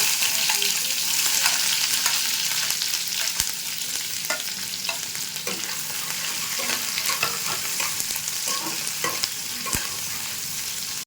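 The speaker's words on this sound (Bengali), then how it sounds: "পেঁয়াজটা ভাজা হয়ে গেছে" Onions and green chilies sizzle steadily in a hot pan, a continuous crackling hiss with occasional clicks of stirring, close and fairly loud, no talking.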